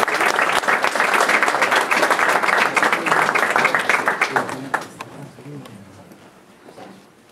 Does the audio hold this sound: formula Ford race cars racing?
no